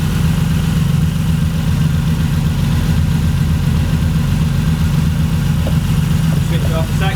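A non-turbo Toyota Supra straight-six fitted with individual throttle bodies idles on a dyno, a steady, loud low rumble throughout with faint chatter in the background.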